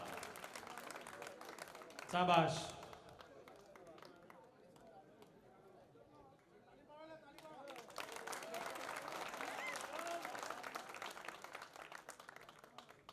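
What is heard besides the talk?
audience applauding at a Ram temple ceremony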